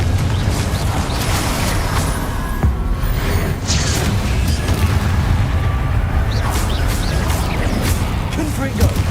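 Confringo blasting spells exploding in Hogwarts Legacy, heavy booming blasts and crackling bursts layered over dense continuous game noise, with a voice talking over the action throughout.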